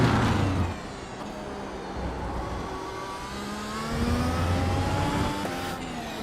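Simulated race car engines roar around the Jerez circuit in the iRacing game, loud and continuous, with revs rising and falling through gear changes and no talk.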